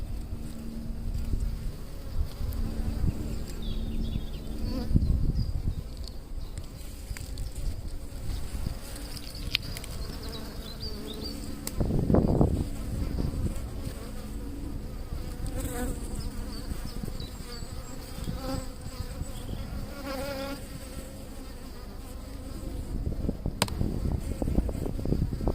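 Honey bees buzzing during a hive inspection, a dense, continuous drone close by with small swells and a few brief knocks and rustles throughout.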